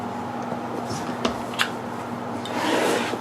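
A metal-edged ruler trimmer cutting through a quilt block's excess batting and backing: close, soft rubbing and scraping with a couple of sharp clicks, then a longer rasping pass near the end, no talk.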